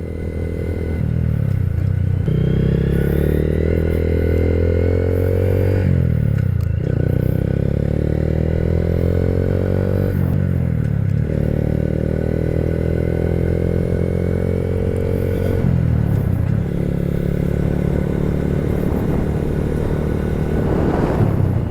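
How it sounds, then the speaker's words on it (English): A Honda Grom mini moto with a 570 engine runs loud and close throughout, its steady exhaust drone rising and falling as the rider shifts through gears, with brief dips between pulls and no talking. "What a nice day to ride the 570 Mini Moto Grom."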